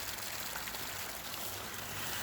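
Water spilling over the top of a low head turbine intake, a steady broadband rush and trickle, continuous and fairly soft without any voices.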